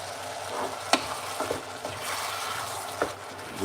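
Food with mixed herbs sizzles in a pan while a spoon stirs it, giving a steady frying hiss broken by a few clear scraping knocks, moderately quiet and with no talking.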